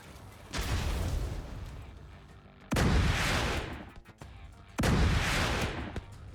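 Mortar rounds and explosions in the video game The Division 2: three heavy, loud broadband blasts spaced roughly two seconds apart, each followed by a long rumbling decay over steady background noise.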